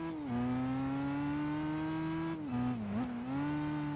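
A Ferrari racing against race cars in Gran Turismo 5 drones with a steady engine tone, dipping briefly as it shifts or brakes and then climbing again, loud and alone for a few seconds.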